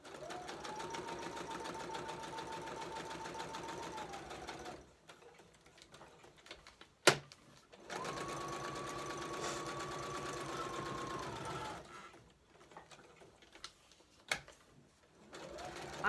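Two fast runs of a sewing machine stitching through paper book pages, each lasting several seconds with a quiet pause and a sharp click between, steady and close with no talking.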